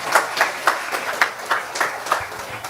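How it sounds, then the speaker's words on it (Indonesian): A small congregation clapping in short, uneven bursts during a sermon, individual claps spaced and separated rather than a dense roar, fairly close and moderate in volume. "Tepuk tangan dulu."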